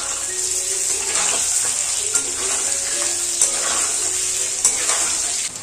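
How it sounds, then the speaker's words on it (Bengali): Potato pieces seasoned with salt sizzle and fry steadily in a pan, a continuous broadband hiss with occasional sharper crackles and faint stirring clicks, close and loud with no talking. "নুন দিয়ে আলুটা ভালো করে ভেজে নেব।"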